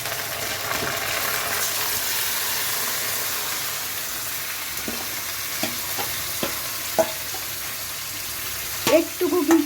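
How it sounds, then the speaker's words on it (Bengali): Chicken meat frying with browned onions in a pan for cheesy chicken, a steady close sizzle with occasional clinks and scrapes of a spatula stirring near the end. "আমার পেঁয়াজটা একদম লাল হয়ে গেছে ভেজে এবার আমি এটার মধ্যে মাংসটা ঢেলে দেব"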